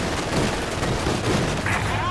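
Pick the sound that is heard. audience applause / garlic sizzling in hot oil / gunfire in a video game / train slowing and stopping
gunfire in a video game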